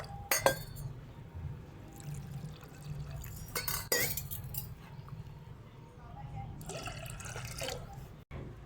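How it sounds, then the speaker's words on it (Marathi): Water poured into a pot holding ground mustard, splashing and trickling near under a low steady hum, with faint clinks of utensils and a brief louder pour toward the end. "आता मी या पातेल्यामध्ये टाकून घेणार आहे आणि मी पाणी टाकून घेणार आहे ह्याच्यामध्ये"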